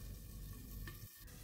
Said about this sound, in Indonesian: Kita goreng utuh seperti itu dan ini pasti meletus-meletus,